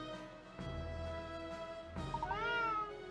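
A cat meows in the video game Layton's Mystery Journey, one drawn-out, rising and falling meow near the end over a soft, steady musical backdrop.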